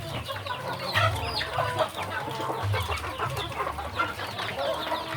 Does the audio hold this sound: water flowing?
no